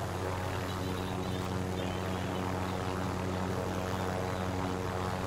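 Helicopter flying in Call of Duty Modern Warfare, a steady dense rotor and engine drone that runs unbroken and evenly loud throughout, with no voices over it.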